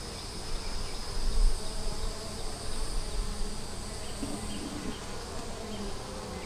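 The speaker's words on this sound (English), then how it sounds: "it has a bunch of bees." Dense, continuous buzzing of many bees swarming close by around an open hive, a steady humming drone with no voices.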